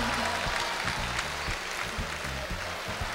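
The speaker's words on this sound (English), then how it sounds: "Could we have a round of applause for Beatrice Seal, sister of Lady Guymine?" Audience at a 1994 calypso monarch awards ceremony gives a fairly faint, continuous round of applause, a rough patter of clapping over a low rhythmic hum.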